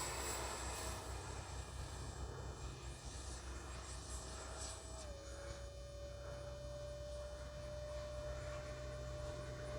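A Freewing F-22 70mm electric ducted-fan RC jet in flight, with gear and flaps up, gives a steady, continuous whine with a faint hum, heard from a moderate distance throughout.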